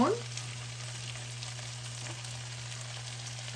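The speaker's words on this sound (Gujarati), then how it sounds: "અને આપણે 5 મિનિટ માટે ધીમા ગેસ ઉપર સાતડવાનું છે." Capsicum, frozen peas and corn sauté in a pan over low heat, a soft, steady sizzle and faint stirring against a constant low hum, with no voices.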